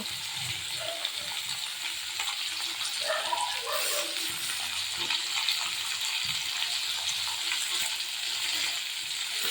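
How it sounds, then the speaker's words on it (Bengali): Potatoes and raw plantain seasoned with salt and turmeric fry in a pan for a rohu fish curry, giving a steady close sizzle with faint scraping and clinks as they are stirred, no talking. "এবার এই সবজিগুলো ভালোভাবে নেড়ে চেড়ে ভেজে নেব"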